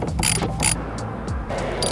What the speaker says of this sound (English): let's remove those two 10 millimeter nuts.